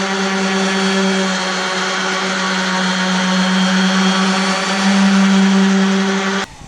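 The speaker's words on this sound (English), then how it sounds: "So we keep sanding until there's no more dark spots." A power sander on a painted surface whines loudly and continuously at close range, its steady motor tone wavering slightly, then cuts off abruptly at the end.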